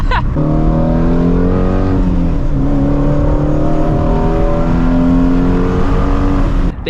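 A 2016 Shelby GT350 spins its tires and revs hard, a loud, sustained engine roar with rising and falling harmonics over nearly seven seconds, close and steady, cutting off abruptly at the end.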